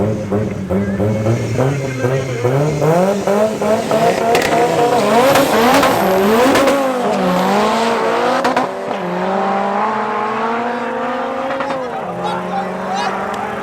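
An Audi and other race cars drag race at Midvaal Raceway, loud engines revving and rising in pitch through gear changes, with tyre squeal and a commentator's voice running over the roar.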